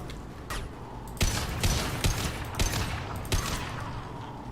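Gunfire in the video game Mass Effect 2, a series of sharp shots at irregular intervals over a low, steady background.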